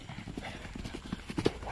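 Ponies' hooves clip-clop in a paddock, a run of irregular hoof knocks close by that grow heavier toward the end, with no talking.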